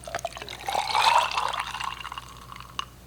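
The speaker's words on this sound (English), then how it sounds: "pour that over crushed ice" Cold-pressed orange juice with pineapple, carrot, lemon and ginger is poured over crushed ice, giving a steady close liquid stream that swells and then tapers off over a few seconds.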